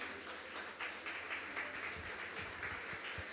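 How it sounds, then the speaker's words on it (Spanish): A church congregation claps together in a steady, dense wash of applause that continues throughout, with no voices over it. "Denle un fuerte aplauso al Señor"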